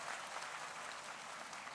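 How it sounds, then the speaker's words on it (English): A crowd at a student felicitation ceremony gives a round of applause, dense continuous clapping from many hands filling the hall. "We need a big round of applause for her."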